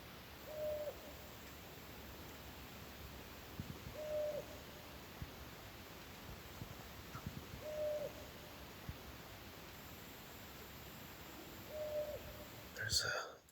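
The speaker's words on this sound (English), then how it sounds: "There's a couple owls that have been around this area." Owls hooting at night around a foggy forest campsite, four soft, well-spaced hoots that recur every few seconds over a faint steady hiss, with a brief rustle near the end.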